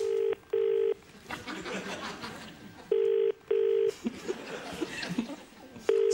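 A telephone rings in repeated double bursts of a steady electronic tone, with brief gaps between pairs and some faint chatter and rustling in between.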